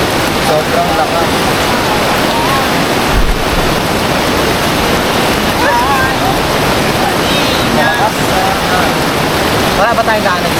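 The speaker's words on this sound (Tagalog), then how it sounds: "Malakas ang agos." A strong river current rushes loudly and continuously, a dense broadband roar of churning water close by, with brief voices speaking over it.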